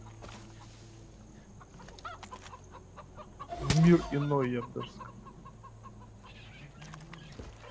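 Rooster in the Far Cry 5 video game, giving a burst of loud, close clucking mid-clip over game ambience, with someone talking around it.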